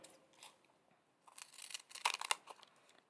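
Scissors snip through card stock in a short series of crisp cuts, quiet at first and then louder, close to the microphone.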